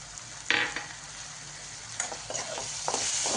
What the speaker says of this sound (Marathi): छान मिक्स करून घ्यायचं आहे